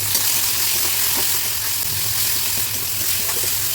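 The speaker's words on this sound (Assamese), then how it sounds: "এতিয়া লৰাই দিম।" Chickpea curry masala sizzling loudly in a pan as it is stirred, a dense continuous frying hiss up close with soft scraping of the spoon.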